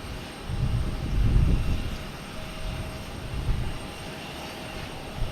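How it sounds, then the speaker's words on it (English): A Condor airliner taxiing toward takeoff at Boston Logan Airport, a low, steady engine rumble at a distance that swells briefly, then holds as a broad, even drone with no one talking. "I also see Condor heading down the taxiway. Let me see if we can see it still. Heading down the taxiway, getting ready to take off."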